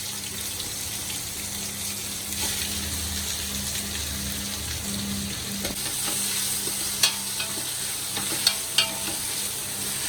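Chopped onions hiss and sizzle in a hot pan with steady stirring, a watery wash underneath and a few sharp clicks near the end, no voices.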